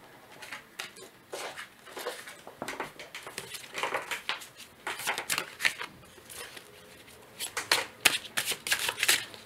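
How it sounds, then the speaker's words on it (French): Tarot cards are dropped and shuffled by hand, a close, crisp flurry of papery riffles and slaps in uneven bursts that grow busier toward the end, with no talking. "Je fais tomber mes cartes."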